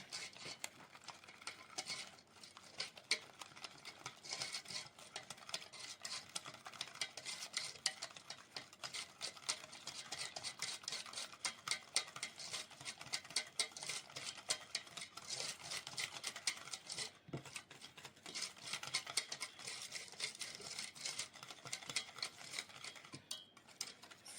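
Gingerbread cookie mixture stirred in a bowl, a steady run of quick scraping and clinking strokes that carries on without a break at close range, with no voices.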